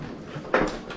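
A door is pushed shut indoors, giving one near, fairly loud thud with a short rattle after it, then a quieter tail against low room noise.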